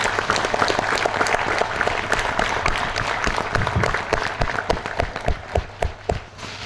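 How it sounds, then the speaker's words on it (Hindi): A seminar audience in Ahmedabad breaks into sustained applause, a dense wash of many hands clapping nearby that thins toward the end, leaving a few louder individual claps and a low hum underneath. "एक बार आपके लिए ताली।"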